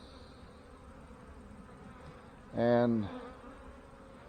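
Honey bees hum in a soft steady drone around a backyard hive during a fireweed honey harvest, with a brief spoken word rising over the buzzing partway through.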